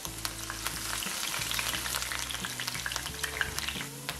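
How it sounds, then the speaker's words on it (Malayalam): Long-cut green chillies and curry leaves frying in oil for restaurant-style gobi, a dense continuous sizzle with busy spatula scrapes and clinks as they are stirred, close and fairly loud. "ഇതൊന്ന് ഫ്രൈ ആയി വരുന്നത് വരെ നമുക്ക് ഇളക്കിക്കൊണ്ടിരിക്കാം."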